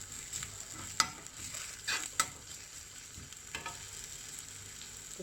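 Potatoes sauté with a pinch of asafoetida in a pan for a Tamil curd rice potato fry: a faint, quiet sizzle with a few sharp stirring clicks and scrapes, close by and with no speech.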